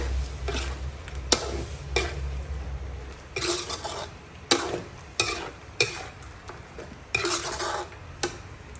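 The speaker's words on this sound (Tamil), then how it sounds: "இதில் அரைச்சி வச்ச பண்டானியும் வெங்காயத்தையும் ஊற்றிடலாம்." Ground pandan and onion paste goes into a hot pan and is stirred, a metal spoon scraping and clinking in an irregular rhythm over a low sizzle.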